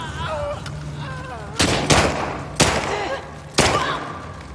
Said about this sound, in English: Pulled shotgun back out.